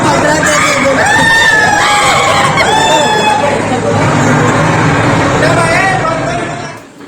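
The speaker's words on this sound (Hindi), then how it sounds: "मॉल में जितना भीड़ है क्या ही बताऊँ, आप देख सकते हो इतना भीड़ है मॉल में" A busy shopping mall crowd fills the air with a loud, continuous wash of overlapping voices and shrill tones. People talk throughout, and the din fades slightly at the very end.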